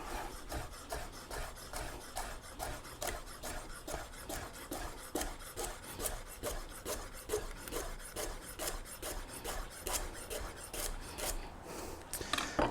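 An 8-inch Damascus chef knife slices a carrot on the bias, giving a steady run of close, crisp rasping cuts with board contact in an even rhythm, alone without talk.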